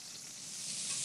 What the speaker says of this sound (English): It's got that sizzle.